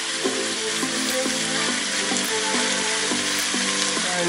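Pheasant pieces searing in a hot pan, a dense, continuous close sizzle and crackle with a steady hiss, undisturbed by voices.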